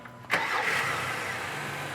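A car engine cranks and starts with the high beams, other lights and wipers switched on to put as much electrical load as possible on the battery, then settles into a steady, fairly loud idle.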